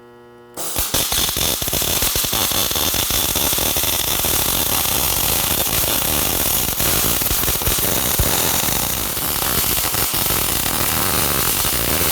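Steel on a 16-foot car hauler trailer being welded, a harsh continuous crackle and buzz that starts abruptly and holds loud and close throughout.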